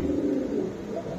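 Pigeons at a pigeon market coo in a low, soft, continuous rolling murmur, close by and without speech.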